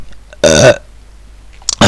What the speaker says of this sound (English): Sorry for, hiccups or whatever at the mic, but like, I just eat the food.